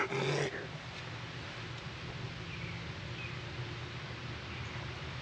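Feisty kittens growl from a hidden corner of an old tractor restoration shop. A short louder growl comes first, then a steady low rumbling of growls and faint chirps continues for several seconds at close range, with no talk.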